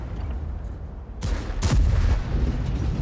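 A tank cannon shot in a video game on the Lakeville map: a sudden loud boom with a second heavy blast moments later, both ringing out over a steady engine-like rumble.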